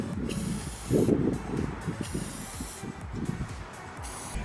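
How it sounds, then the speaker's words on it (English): Repeated hissing bursts of an aerosol spray can spraying a canvas in one direction, close by, with short pulses separated by brief pauses and faint handling noises. "When you're spraying your canvas, you want to go in one direction."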